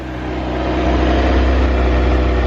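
A Kawasaki Z900 liter-class motorcycle engine runs close and loud, a steady low droning rumble that swells slightly midway as the throttle is raised, with no talk.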